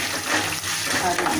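Green and dried red chillies frying in oil in a pan, a steady close sizzle with faint stirring scrapes across a brief moment.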